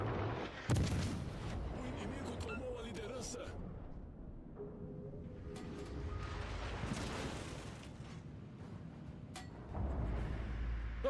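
Booming ship cannon fire in the naval game Windrose, several heavy blasts and rumbling impacts across the stretch, with a louder burst near the start and another at the end, with someone talking over much of it.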